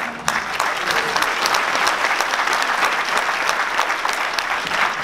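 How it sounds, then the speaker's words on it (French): An audience at a presentation of the Nuits-Saint-Georges night half-marathon applauds, steady dense clapping from a room full of people that holds evenly for about five seconds with little speech. "je vous demande de les applaudir."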